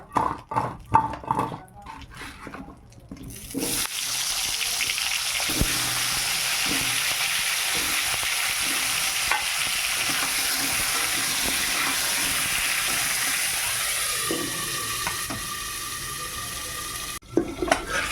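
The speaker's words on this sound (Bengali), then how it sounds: "এবার আমি আলুটা ভেজে নেব।" Chandramukhi potatoes frying in a pan in a village kitchen, a loud, steady sizzling hiss that runs unbroken for most of the stretch, bracketed by brief clattering and handling noises at the start and end.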